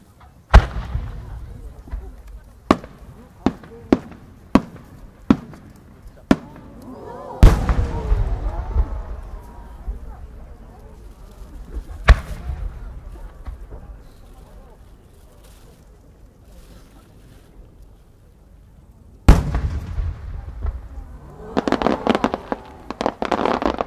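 Fireworks burst at the Omagari fireworks competition in Akita, a Niigata Enka display: sharp, loud booms in irregular series, some with crackling tails, a long pause, then a dense rapid crackling volley at the end.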